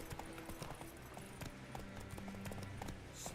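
Roach the horse gallops across open ground in The Witcher 3: Wild Hunt, with a steady, rhythmic clip-clop of hooves at low volume over a dense game soundscape.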